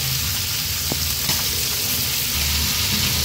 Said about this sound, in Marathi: मीडियम फ्लेमवर हा पापलेट फ्राय करून घेणार आहोत